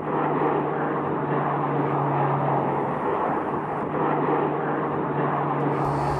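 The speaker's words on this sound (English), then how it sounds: "One such aircraft is the four-engine turboprop cargo plane, the LC-130" An LC-130 four-engine turboprop cargo plane used in Antarctica, its engines giving a loud, steady droning roar with a constant low hum throughout, no voices.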